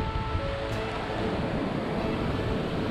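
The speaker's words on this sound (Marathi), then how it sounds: "आता समुद्राचं पण खवळण्याचं प्रमाण जास्त आहे" Loud, continuous roar of rough surf churning under strong, buffeting cyclone wind at Alibag during Cyclone Nisarga, with no pause across the whole stretch.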